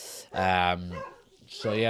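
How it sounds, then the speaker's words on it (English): Dog barking in the background of an indoor room, with a couple of short, fairly loud barks mixed in with someone talking. "you can probably hear the dog in the background."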